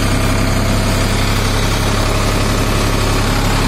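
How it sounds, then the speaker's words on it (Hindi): A tractor engine runs steadily at 1400 rpm in second gear while driving a rotavator, a loud, close, continuous low rumble with constant vibration and no pauses. "अभी अपन ट्रैक्टर को अपन 1400 आरपीएम पर और लोके सेकंड गियर में चलाएंगे पहले"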